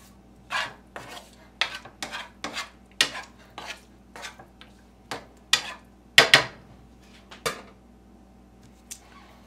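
A spoon stirs boiled food seasoned with Old Bay in a pot, making about a dozen close, separate clanks and scrapes against the metal in an uneven rhythm, no talking.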